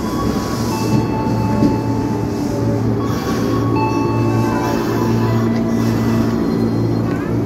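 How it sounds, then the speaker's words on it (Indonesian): KRL Commuter Line electric train of 10 cars pulling into a station, a loud continuous rumble of wheels and motors with faint squeals and hum, heard close from the platform for several seconds. "Yes, KRL-nya akhirnya datang. Terdiri dari 10 kereta."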